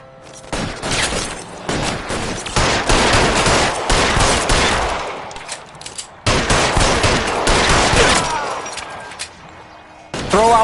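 Heavy gunfire in the LA Noire video game, with rapid, dense volleys of shots and bursts in two long loud stretches, a brief pause between them, and scattered cracks at the end.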